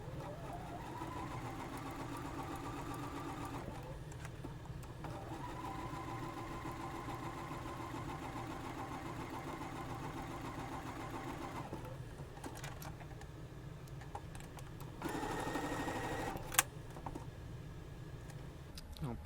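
A sewing machine runs steadily as quilt pieces are sewn with a scant quarter-inch seam, humming in long continuous stretches with brief pauses, close and moderately loud.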